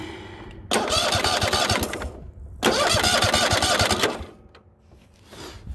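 A Kohler Courage V-twin engine runs in two loud, buzzing bursts with a harsh rattling, scraping texture of plastic rubbing, then drops back to a quieter idle.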